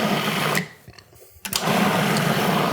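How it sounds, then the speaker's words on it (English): A food processor whirs loudly while blending butter bean hummus, a steady dense roar that briefly drops away mid-run before surging back at full volume. "I'm going to start my processor running"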